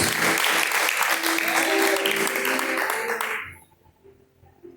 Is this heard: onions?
no